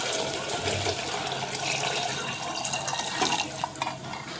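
Water pours steadily into a pot of spicy matki rassa bhaji, a sprouted moth bean curry, with a close, loud splashing gush that grows more uneven toward the end.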